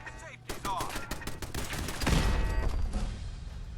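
Gun turrets in Fallout 4 open fire in rapid bursts of gunfire, a string of sharp cracks followed by a heavier sustained volley, with a voice talking faintly underneath.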